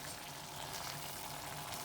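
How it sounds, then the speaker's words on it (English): Sliced courgette fries in a pan with a steady, dense sizzle that continues without a break, close and even. "the courgette is almost cooked"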